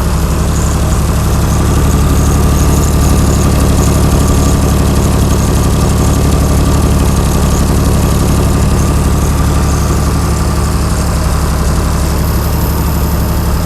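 A Chrysler Slant 6 engine driving a generator idles steadily and loudly at close range, a continuous low, rumbling drone with a faint knocking texture that holds unchanged throughout.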